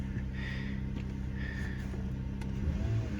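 A Ford Fusion with a 3.0L V6 idles after a throttle body replacement, a steady close engine hum with a slight rise in revs near the end and no talk.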